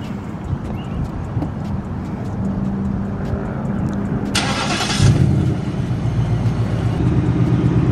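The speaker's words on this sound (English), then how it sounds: "So let's go ahead and start it up." A car engine cranks and catches, a brief burst of starter noise followed by a steady idle, fairly close and with no talk over it.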